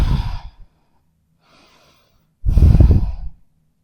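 Deep audible breaths during a wide-legged yoga forward fold, a short exhale at the start, a faint breath in the middle, then a long, loud, airy exhale near the end.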